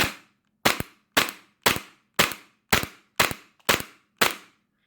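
Airsoft BBs fired through an Acetech AC6000MKIII chronograph, eight sharp, loud snapping shots at a steady rhythm about half a second apart, each decaying quickly, close by with nothing else heard.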